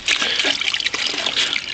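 Cold spring water trickles and splashes steadily over an injured bare toe outdoors, a close, continuous dribbling stream with small splatters.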